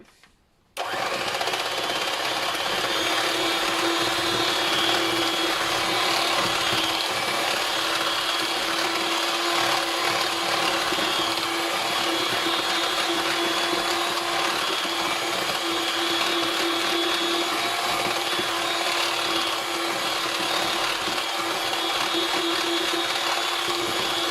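An electric mixer beating shea butter chantilly with aloe vera, starting abruptly and running as a loud, steady whirring drone for over twenty seconds, close up and with no voices.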